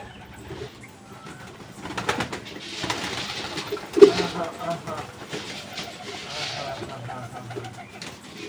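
Domestic pigeons coo softly and repeatedly at close range in a backyard coop where chickens are also kept, with a low scuffling bustle throughout.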